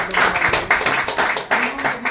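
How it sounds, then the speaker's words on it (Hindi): Audience members clap together at a business meeting of a real-estate group's team in Ghazipur, a brisk, close patter of hands that runs for about two seconds with slight surges in intensity. "एक बार जोरदार ताली"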